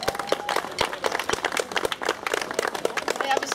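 A crowd at a Fiat car meet in Zvolen, Slovakia, applauds the mayor with brisk, scattered clapping from a modest gathering, close by and sustained throughout.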